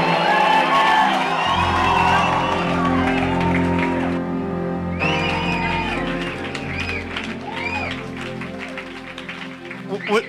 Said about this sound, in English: Now lift your voice and shout back God with a clap and noise right here.